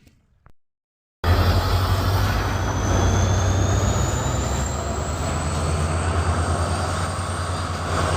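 Train passing close by on a railway line in Assam, a loud continuous rumble and roar of wheels and carriages that stays steady for several seconds after a sudden onset, with no talk.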